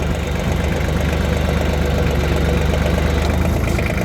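Kioti LB1914 diesel tractor engine idling nearby, a loud steady low rumble with an even, rapid chugging pulse throughout and no speech over it.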